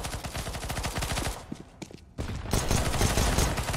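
Rapid automatic gunfire in CS:GO, loud bursts of close shots in quick rhythm, a short lull, then another heavy sustained burst.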